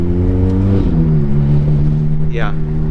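Ferrari F430 pulling away from a stop as the clutch engages, a loud, close engine drone that dips as the clutch grabs and then holds steady, with brief talk inside the car.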